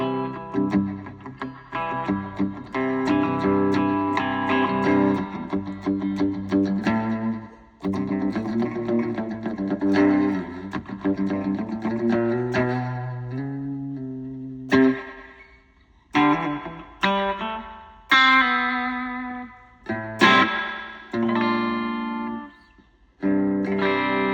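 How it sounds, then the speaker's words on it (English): Electric guitar playing chords and single notes through a Donner Arena 2000 multi-effects pedal's wet, splashy spring reverb with a twangy, surf-style tail, steady and fairly loud with brief pauses. "You could really hear that spring kind of twang."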